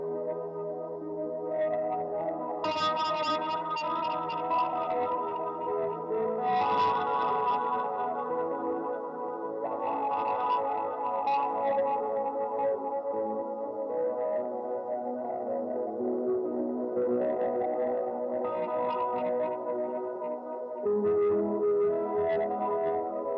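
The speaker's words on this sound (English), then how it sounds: "I just switch on all of those pedals in addition with the wah pedal to get the kind of sound that I'm going for" An electric guitar on the bridge pickup plays sustained ambient chords through a wah pedal stacked with distortion, chorus and echo, washing and swelling continuously with shifting tone and long trails, no voices.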